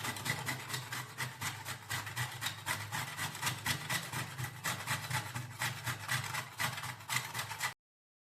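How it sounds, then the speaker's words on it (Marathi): Coconut being grated by hand in a home kitchen, a steady rapid rasping scrape repeated stroke after stroke, close and continuous for about eight seconds with no talk. "आता मी खोबरं किसणार आहे"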